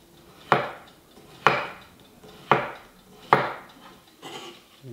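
Cucumber slid across a mandoline for thin carpaccio-style slices: four firm, evenly spaced crisp strokes followed by a softer fifth, close by in a quiet kitchen with no speech.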